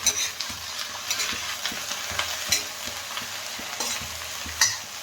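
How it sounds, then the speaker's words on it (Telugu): Sliced okra frying in a pan while being stirred: a constant close sizzle runs throughout, broken by scraping and clinking stirs, with no voices. "ఇప్పుడు బెండకాయలు వేసుకొని మనము మంచిగా వేగనివ్వాలి బెండకాయల్ని"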